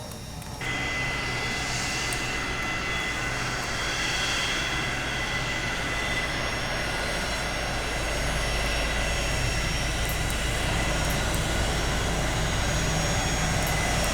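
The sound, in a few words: air rushing from an airliner's avionics bay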